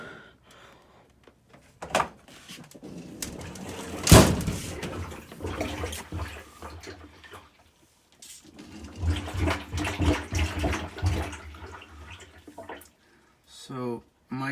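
A person blows into the end of an LG washing machine drain hose, producing airy gurgling bursts and watery bubbling, with a sharp knock partway through and someone talking at points.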